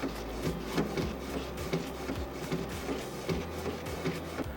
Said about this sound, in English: Just going to print and away we go, the machine kicks into life.